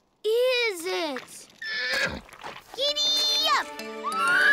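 A cartoon horse whinnies in a kids' cowboy episode, a high wavering neigh up front and another toward the end, mixed with a voice talking in between.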